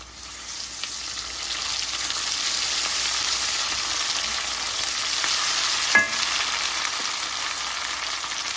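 Ginger garlic paste and sliced chicken giblets and liver frying in a pan, a loud, steady sizzle throughout with one brief clink of a spoon near the end, no voices.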